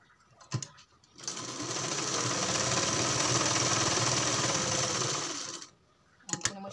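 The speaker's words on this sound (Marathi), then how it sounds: "आणि खालच्या बाजूने पर्यंत त्याला मशीन फिरून घ्यायची" An electric sewing machine runs in one steady, loud burst of about four and a half seconds while stitching a decorative back-neck blouse design, with brief handling clicks before and after.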